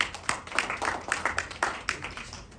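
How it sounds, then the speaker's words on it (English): Scattered, sparse clapping from a small audience at a United Nations 80th anniversary celebration event, a few distinct quiet claps at an uneven rhythm, fairly faint. "Let's give him a round of applause."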